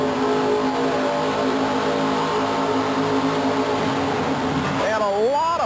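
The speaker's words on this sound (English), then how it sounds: "1923 T Ford altered. This one powered by a 428 cubic inch Cobra jet Ford, carbureted with nitrous oxide injection." A 1923 Ford T altered roadster powered by a carbureted 428 cubic inch Cobra Jet Ford engine with nitrous injection roars loudly at an indoor Astrodome thrill show, with a strong steady drone and a rising rev at the end, under an announcer's voice.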